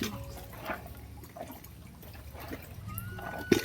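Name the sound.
washing clothes by hand with water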